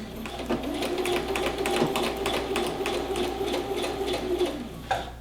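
A sewing machine runs steadily while back stitching the seam of a shirt pocket, with a fast, even needle rhythm and a constant motor hum throughout.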